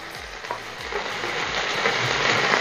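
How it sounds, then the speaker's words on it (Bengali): Onion paste and green chili paste sizzle loudly in hot oil while being stirred for Bhola dried fish chutney, a steady close crackle with soft scraping strokes of the spoon, no voices. "পেঁয়াজ বাটা, কাঁচা লঙ্কা বাটাটাও দিয়ে দিচ্ছি। সাথে ভালো করে নাড়িয়ে নেব"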